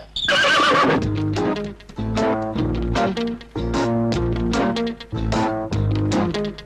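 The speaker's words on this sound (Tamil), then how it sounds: "இந்த குதிரை குறுக்க நிக்குது, எனக்கு பயமா இருக்கு, கொஞ்சம் விரட்டி விடுங்களேன்." A horse neighs loudly and close, with a long shrill whinny that breaks into repeated fluttering calls, over a busy musical film soundtrack.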